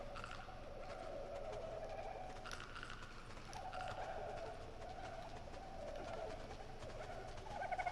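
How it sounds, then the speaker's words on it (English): A flock of dodos calls in the video game ARK: Aberration, a cluster of soft cooing, chirping bird sounds repeating irregularly over a steady ambient game background, moderately quiet and with no speech. "there's like a flock of dodos here"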